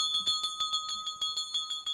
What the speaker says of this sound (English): we're ringing the bell for Bang Energy Drink